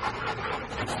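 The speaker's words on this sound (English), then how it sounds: "You guys can already hear the dogs panting as well." Rottweiler dogs in kennels pant rapidly and breathily, close and continuous, over a short stretch with some background noise.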